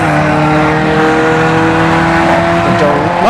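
An Acura Integra and a Mazda RX-7 launching side by side down a dragstrip, engines roaring loud and steady with rising revs and gear changes, the pitch climbing and sliding as the cars pull away.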